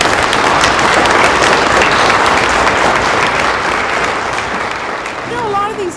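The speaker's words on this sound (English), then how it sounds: "Can we give a round of applause?" A crowd at a dog-presentation event for veterans claps in a loud, sustained round of applause that stays strong throughout, with voices mixed in.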